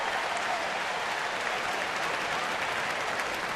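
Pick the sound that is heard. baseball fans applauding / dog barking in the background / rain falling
baseball fans applauding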